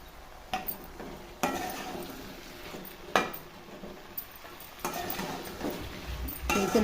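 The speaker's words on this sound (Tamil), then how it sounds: "சேர்த்து நல்லா கிளறி விடுங்க" Chopped brinjal stirred into a tomato-onion mixture in a pan for a Tamil kathirikkai sundakkai vathal kuzhambu, with intermittent scraping and clinking of a spoon against the pan, several louder strokes among a quiet sizzle-like background.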